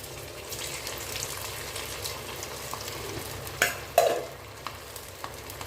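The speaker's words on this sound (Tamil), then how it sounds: "அடுத்த நம்ம சமோசாக்கெல்லாம் தரட்டி வச்சுருக்கோம் அதை எடுத்து போட்டுக்கலாம்" Stuffed puri samosas fry in hot oil with a steady, soft bubbling sizzle, broken by a couple of sharper clinks or splashes midway as pieces go into the pan; no one speaks.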